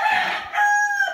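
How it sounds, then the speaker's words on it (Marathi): A rooster crows loudly and close by at a goat farm, a single strained call lasting about a second with no talk over it. "इकडे कोंबड्या वगैरे पाळलेले आहेत"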